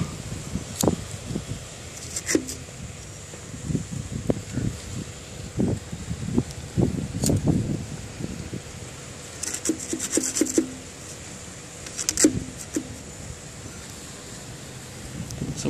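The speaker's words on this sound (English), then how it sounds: "It's a little too windy right now." Wind blowing outdoors in a residential neighborhood, a steady rushing buffet against the microphone with scattered bumps and handling noises throughout.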